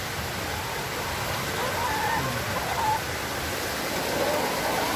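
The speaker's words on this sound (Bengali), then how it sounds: "দেখতেই পাচ্ছেন, আসলে এত পরিমাণে বৃষ্টি।" Heavy rain pours steadily at a poultry farm, a dense, even hiss filling the scene, with faint chicken calls surfacing briefly in the middle.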